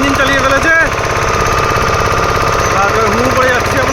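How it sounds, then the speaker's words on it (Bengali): A motorboat engine on Chilika Lake runs at a loud, steady, rattling idle-to-cruise throb, with people talking over it close by. "আমাদের পাইলট ইঞ্জিন চালিয়ে ফেলেছে"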